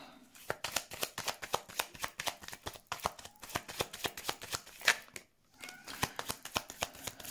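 Tarot cards shuffled and drawn during a weekly general reading, a steady run of close, crisp riffling clicks and slaps with a brief pause near the end before the shuffling resumes.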